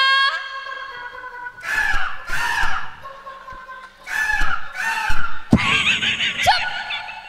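A performer at a Maithili comedy stage show imitates a hen's clucking in a series of short, squawking, vocal bursts, close and fairly loud, with brief pauses between.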